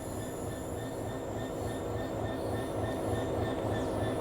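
A Class 66 diesel locomotive in DB Red livery runs on the West Coast Main Line in Train Sim World 5, giving a steady, loud engine drone and rolling rail noise throughout, with faint high squealing tones and no speech.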